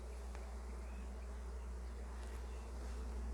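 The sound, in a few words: bees buzzing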